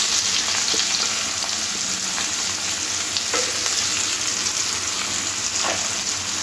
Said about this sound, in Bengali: পেঁয়াজটা লাল লাল করে একটু ভেজে নেব।